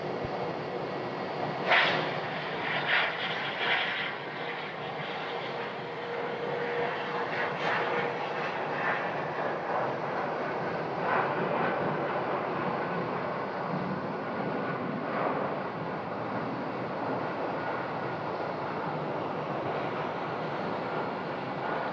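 An American airliner landing on runway 26 at Phoenix Sky Harbor: a continuous broad jet roar that holds steady and moderately loud, heard from some distance outdoors with no talking.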